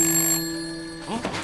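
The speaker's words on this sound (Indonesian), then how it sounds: "Dan di detik itu juga semua saluran telepon mereka berbunyi serentak." A telephone rings loudly and close in a scene from the film 1987. The bright, trilling ring sounds once and fades, and a voice starts speaking just after it.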